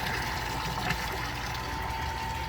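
Water running into a brewing kettle for a double batch of beer, a steady close gushing rush with a faint constant tone, no talk.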